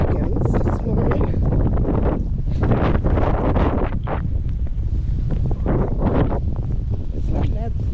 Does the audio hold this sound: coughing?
no